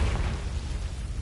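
A Confringo blasting spell bursts in Hogwarts Legacy, producing a short, muffled low rumbling boom that fills the moment and fades quickly, heard alone.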